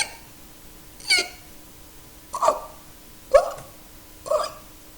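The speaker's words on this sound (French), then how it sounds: "Elle est aux prises avec un gros hoquet." Four sharp, separate hiccups, one about every second, each a short burst with a bright upper edge, heard fairly close over a faint steady background with no talking.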